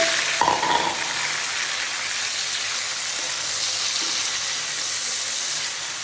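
Chopped tomato dropped into a pan of frying onion, ginger and garlic, a steady loud sizzle with a brief burst as it goes in, continuing evenly throughout.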